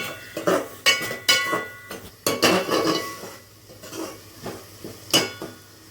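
Paneer biryani is stirred in a pot with a metal spoon, making repeated clinks and scrapes against the sides at an irregular beat of about one every half second. The sounds are close and fairly loud, with no voices.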